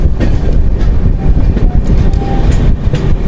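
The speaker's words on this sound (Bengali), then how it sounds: "আমাদের ট্রেন চলে যাচ্ছে সামনের দিকে" The Mithila Express runs past Chandannagar station, heard from aboard as a loud, continuous rumble with rhythmic wheel clatter on the rails throughout.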